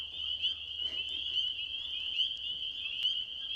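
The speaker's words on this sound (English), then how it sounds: "I'm hearing all the bullfrogs." Frogs at a pond call in a continuous, dense chorus of steady trilling, fairly faint and distant, with low background rumble and no talking.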